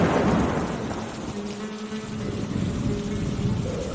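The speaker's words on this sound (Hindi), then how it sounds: "उस रात को एक तूफान आया।" Steady rain pours through a cartoon thunderstorm with a low rumble of thunder swelling at the start and again near the end, a continuous wet hiss filling the scene with no voices.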